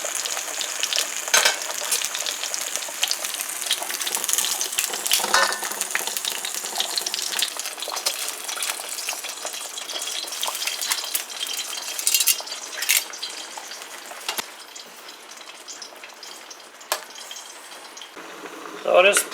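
A pot of chicken foot soup bubbles and sizzles steadily at close range, with soft popping and occasional clinks, no talking.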